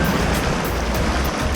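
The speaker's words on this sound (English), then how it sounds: "That was a big wave." A big ocean wave crashes over the rocky tide pools at Laguna Beach, a loud, continuous rush of churning surf with wind noise throughout.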